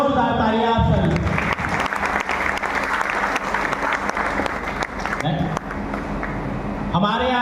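Loud, dense audience applause for Asclepius Wellness health care products at a company event, steady clapping filling the whole stretch while a voice speaks over it at the start and near the end.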